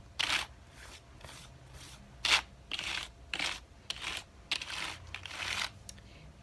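Keys being typed on a computer keyboard, irregular bursts of close clicks and taps at a moderate pace with brief pauses, alone without talk.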